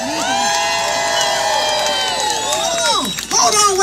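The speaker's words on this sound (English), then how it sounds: "let's give a round of applause for Brandon" A crowd at a political march cheers and whoops loudly, many overlapping shouting voices rising and falling over a few seconds, with little clear clapping beneath them.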